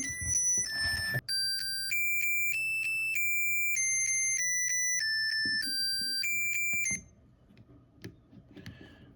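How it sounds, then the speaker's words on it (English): A SwitchBot tracker rings loudly after being triggered from its phone app, playing a bright repeating beeping melody for about seven seconds before stopping, followed by faint handling noise. "You can go in here and make it ring, and it's pretty loud."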